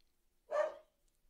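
A single sharp bark from a pet dog, calling out at the neighbouring dogs next door, rings out clearly and fairly close against an otherwise quiet backyard garden.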